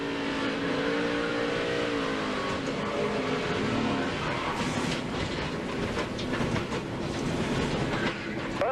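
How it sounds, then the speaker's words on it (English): Onboard with Tony Stewart's NASCAR car in the 2006 Dollar General 300, the engine roars loudly and steadily on throttle, with a rising rev toward the end and constant rattling vibration throughout. "right back when he's getting on the throttle"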